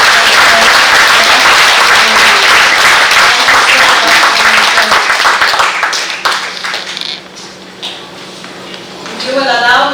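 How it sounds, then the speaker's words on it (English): Big round of applause from the audience at an International Women's Day event, loud sustained clapping that thins out and tapers over about ten seconds, with a voice starting to speak near the end. "give another big round of applause"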